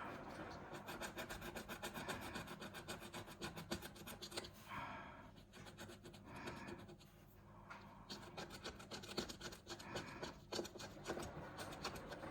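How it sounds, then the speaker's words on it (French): A coin scratches the coating off a scratch-off lottery ticket in quiet, rapid, rhythmic rasping strokes with brief pauses, heard very close. "Ce qu'on va faire, c'est qu'on va gratter la dernière."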